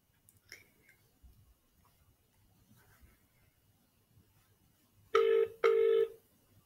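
Outgoing phone call ringing back, two clear electronic ring tones near the end after quiet room noise and a few faint taps, with no voices.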